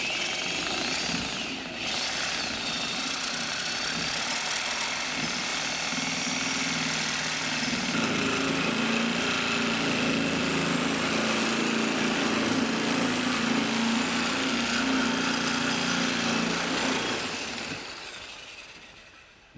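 A power tool cuts through a steering bracket on a round-tube race car front end, giving a steady, loud, close whine and rasp that holds evenly for about seventeen seconds before winding down, with no talking.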